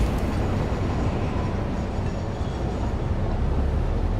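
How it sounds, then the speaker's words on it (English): Steady, loud rumble of a moving train ridden in the Satisfactory video game, continuous rail noise with faint clatter throughout and no voices. "It is loud. I feel like I'm on an actual train."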